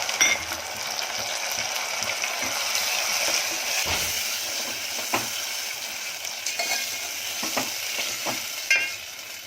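Continuous sizzle of a ground coconut, coriander and garlic paste frying in a pan with asafoetida, with scraping and clicking stirs growing busier toward the end; no talking.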